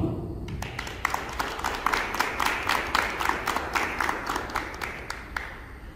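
An audience claps at a school tribute ceremony, a dense burst of applause with distinct sharp hand claps standing out, loud and close, continuing steadily without voices.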